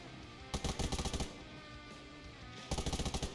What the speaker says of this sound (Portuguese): É tiro pra todo lado, garoto.